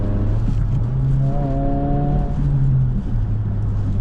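A car engine revs hard through gear shifts, loud and close from inside the cabin, its tone climbing and then dropping at each change, with a steady road roar underneath.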